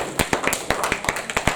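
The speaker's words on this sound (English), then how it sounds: "Clap your hands and celebrate God." A church congregation clapping hands in worship, a short run of sharp, fairly regular claps close by with no voices over them.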